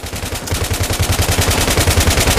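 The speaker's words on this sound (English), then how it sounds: "You have a lot of friendlies firing at the enemy at the same time" Dense, continuous automatic gunfire from a squad of friendly soldiers in the video game Battlefield 3, loud and rapid with overlapping bursts and no pauses throughout.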